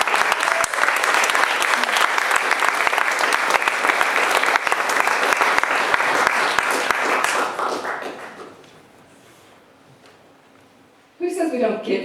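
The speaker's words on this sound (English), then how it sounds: "A round of applause for yourself." Sustained, loud audience applause following a poetry reading at a literature festival fills most of the span, then fades to near silence before a brief burst of noise returns at the end.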